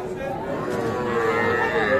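Cattle and young bull calves at a busy livestock market in Raniganj, a close drawn-out moo rising over a murmur of crowd chatter and people talking nearby.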